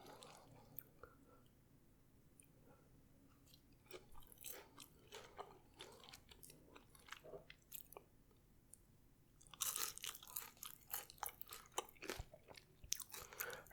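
McDonald's fries being bitten and chewed close to the mic, soft irregular crunches and wet mouth sounds in a quiet room, growing louder and denser toward the end.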